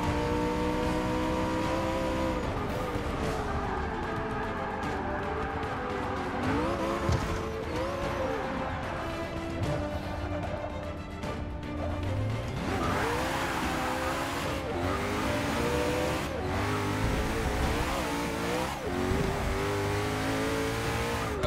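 A 2015 Koenigsegg One:1 in the racing game Forza 6 roars continuously through shifting revs, with rising and falling engine pitch and tire squeal as it corners, loud and unbroken without talk.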